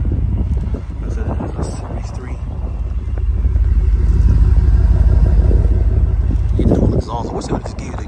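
Rumble of the 6.4 V8 engine in a 2022 Jeep Grand Wagoneer Series III, a steady low idle heard close alongside wind noise, building slightly in the middle, with a voice talking over it.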